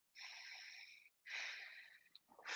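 Two long, airy breaths through the nose during a guided breathwork session, each a steady hiss lasting about a second, close and fairly loud, with a third breath just starting at the end; no talking.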